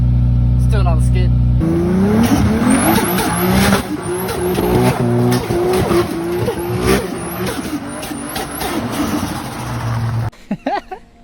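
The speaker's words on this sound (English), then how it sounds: "I did actually do a skid here on the gravel." A 548hp 1JZ-powered Toyota Cressida skids across gravel, its engine revving loud and close with rising tire squeal and scrabbling gravel, then cutting off near the end.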